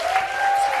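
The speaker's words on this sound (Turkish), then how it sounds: "Hocamın alkışlarından teşekkür" A theatre audience breaks into steady, moderately loud applause, a brief continuous patter of clapping.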